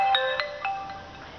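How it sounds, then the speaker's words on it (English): A mobile phone ringtone sounds close by, a bright electronic melody in several distinct repeating pulses over about a second and a half, with no talking. "That was my phone."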